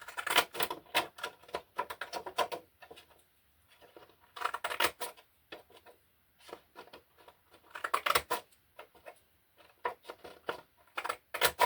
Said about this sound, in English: cutting it out with some fancy scissors